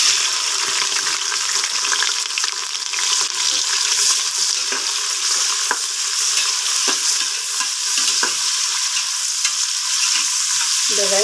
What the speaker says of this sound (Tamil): இந்த வெங்காயமும் பச்சை மிளகா இதெல்லாம் நல்லா வதங்கணும்.